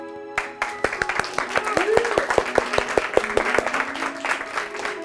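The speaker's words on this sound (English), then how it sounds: "Students usually, when they're correct, are able to clap and celebrate when they're correct." Elementary school students clapping in a classroom, a run of sharp, evenly spaced claps that speed into a rhythmic pattern with a voice or tone faintly underneath, fairly close and moderately loud.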